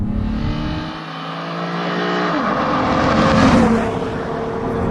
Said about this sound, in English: First gear, foot to the floor.